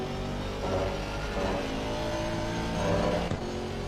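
An Aston Martin GT4 race car engine from Assetto Corsa Competizione drones steadily and loud, with a rising rev swell near the end.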